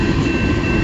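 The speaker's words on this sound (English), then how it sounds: "This one's CN A491 westbound train" A CN A491 westbound mixed freight train rumbles past as a steady, loud, broadband roar with no distinct clicks, close by and unbroken.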